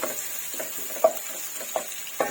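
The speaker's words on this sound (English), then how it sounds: "So you have to cook the shallot until the color changes." Shallots cooking in a pan over a low flame, a steady soft sizzle with a few clear scraping stirs at irregular intervals, close and moderately loud, with no talk.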